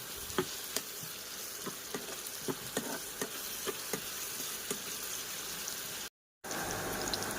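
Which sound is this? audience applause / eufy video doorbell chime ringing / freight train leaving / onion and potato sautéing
onion and potato sautéing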